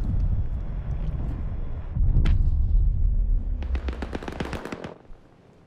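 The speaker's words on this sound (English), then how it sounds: "Why are you shooting at me?" Gunfire in Battlefield 2042: a loud, steady burst of automatic fire with rumble, then a rapid run of sharp individual shots before it cuts away to quieter background.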